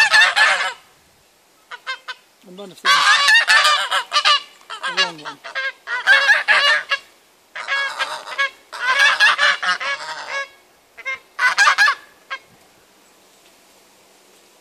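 Loud, close honking from a group of rare-breed geese in repeated noisy bursts with short pauses, and a voice speaks briefly amid the calls.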